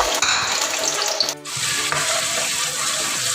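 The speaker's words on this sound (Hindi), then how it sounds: "अब इसके अंदर हम प्याज डाल के फ्राई करेंगे।" Onions frying in a cup of oil in a kadai, a steady bright sizzle with scraping and stirring clatter, briefly dipping midway before resuming, close and moderately loud.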